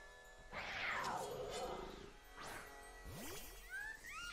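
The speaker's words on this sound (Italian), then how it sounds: "Era il verso del giaguaro." A growling, cat-like roar from the jaguar Pokémon Chien-Pao in Pokémon Violet, a rough snarl followed by sweeping electronic whooshes and chimes, faint and game-like with no voices.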